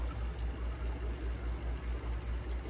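Water pours steadily into a home fish-room aquarium, a continuous close splashing wash with a low rhythmic pulse from the pump or stream beneath it, no voices.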